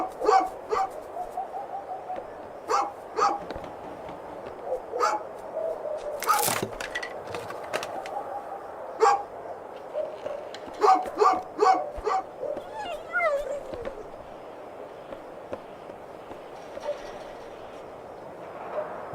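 A dog barking in the video game A Juggler's Tale: repeated sharp barks in short clusters over a low rumbling background, with a narrator's voice speaking in between.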